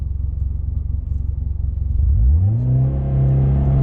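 A Mitsubishi Lancer Evo X engine rumbles and pulses under load, then revs up sharply with a rising tone and holds a strong, close drone as it pulls through the gears.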